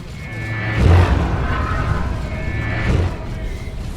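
Blast Master explosions in the Space Marines vs Chaos Space Marines game Dawn of War 2 land as two heavy booming bursts over a rumbling battle drone, loud and close.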